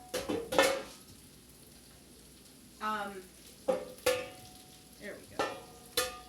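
Beef and rice cakes being stir-fried in a pan, a soft background sizzle with intermittent spatula scrapes and knocks against the pan, and a person speaking briefly.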